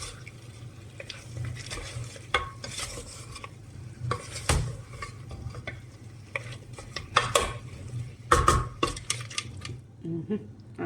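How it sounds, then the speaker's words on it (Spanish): Ground meat is stirred in a frying pan for Moroccan couscous, with scraping utensil clatter and pan knocks over a low sizzle, irregular and close, with louder clanks near the end. "vamos a mezclar nuestra carne"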